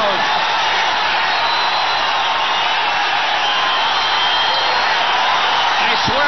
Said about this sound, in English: this is as loud as I've ever heard a boxing crowd of this size at the Great Western Forum